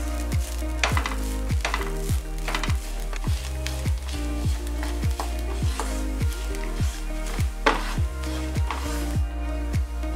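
Grated coconut roasting in a pan for Onam koottu curry, a steady sizzle broken by regular scraping strokes of stirring, close and even throughout, with no talking.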